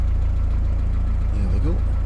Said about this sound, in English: This is idling very high.